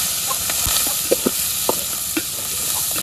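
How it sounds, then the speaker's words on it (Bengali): Shrimp frying in oil with turmeric and chili powder in a wok, a steady loud sizzle with a few sharp spatula scrapes and taps over it. "কড়াইতে তেল দিয়ে দিলাম, চিংড়ি মাছ দিয়ে দিলাম"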